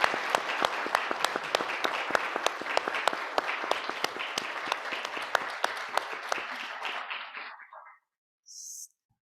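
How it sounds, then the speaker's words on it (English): Church congregation applauding a choir at an Easter Sunday service: a sustained round of brisk, sharp clapping that thins and stops after about eight seconds, followed by a short faint sound. "let's give them a round of applause"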